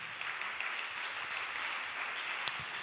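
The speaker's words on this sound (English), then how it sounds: "If you are clapping, you better clap it better." Church congregation clapping during a service honoring a woman, a steady distant wash of applause that carries on without pause, fairly faint and even, with one sharp louder clap near the end.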